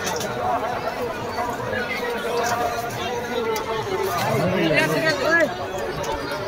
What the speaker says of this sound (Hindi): आप लोग देखते रहिए कैसा भीड़ है।